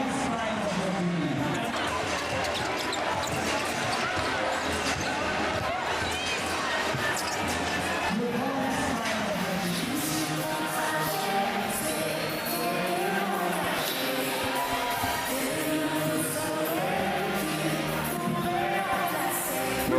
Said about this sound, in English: as you can see on court at halftime, this crowd is in raptures